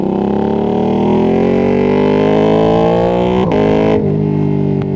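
A Ducati Streetfighter V2S twin-cylinder motorcycle engine drones loud and close, its pitch climbing steadily as it accelerates, with a few brief gear-shift dips near the end and no voices.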